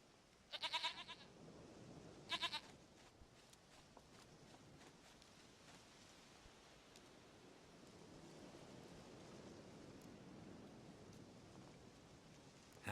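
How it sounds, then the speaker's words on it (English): A goat in the video game The Witcher 3 gives two short, close bleats early on, then the scene settles into quiet ambient noise with faint footstep-like shuffling. "Goat of mine, dearest, sweetest goat"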